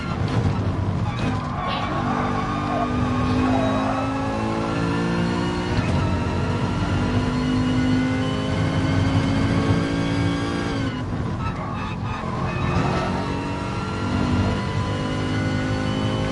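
Race car engine from the Gran Turismo Sport video game during an FIA Gran Turismo Championship exhibition race, revving up and down through gears under commentary, with a steady engine drone the whole way.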